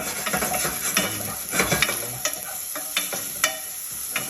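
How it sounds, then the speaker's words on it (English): Onions sweat in a pan with no added oil for low-calorie egg-white fried rice, giving a steady close sizzle broken by repeated stirring scrapes and clicks of a utensil. "when we sweat the onion, it'll give us a bit of moisture so that we don't need to put any more oil in here"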